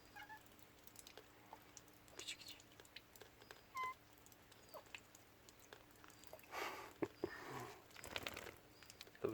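A cat gives a few soft, brief calls in a quiet room, with scattered light rustling and tapping and a low steady hum underneath.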